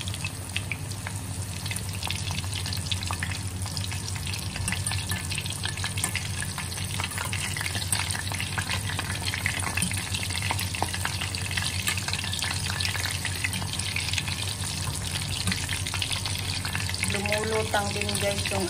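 Battered shrimp tempura deep frying in hot oil, a dense, constant crackling sizzle that stays loud and close throughout, with faint stirring movement near the end.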